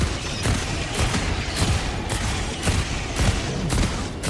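Dense, loud gunfire in the co-op shooter Helldivers 2, with rapid bursts and repeated heavy blasts sounding close in a continuous barrage, no voices over it.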